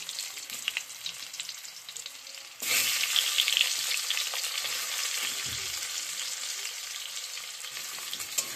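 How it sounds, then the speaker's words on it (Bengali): Boiled potatoes drop into hot oil already frying cumin, dried red chilli and a bay leaf, and the sizzle jumps suddenly louder, then holds as a steady close hiss with faint stirring scrapes. "এবার আমি সিদ্ধ আলুগুলো দিয়ে দিচ্ছি।"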